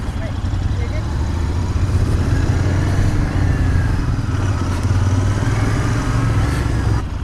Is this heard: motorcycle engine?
yes